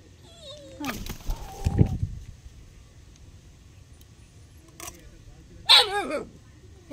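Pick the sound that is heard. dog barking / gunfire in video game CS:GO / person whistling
dog barking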